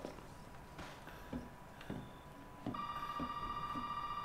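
An old-style telephone rings inside a house in the horror game Resident Evil 7, a steady electronic ring tone setting in partway through over dull, regular footstep thuds and low ambient game noise.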